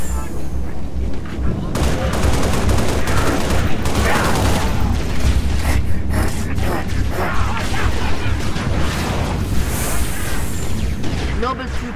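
Gunfire in the Halo video game, dense bursts of automatic and single shots crackling continuously and loud throughout, with a voice speaking over the battle.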